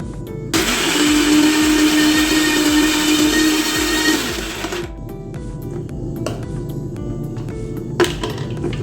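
A mixie mixer grinder whirs loudly as it grinds ration rice with ice cubes for mini idli batter, running steadily for about four seconds before switching off, with clattering kitchen sounds afterward.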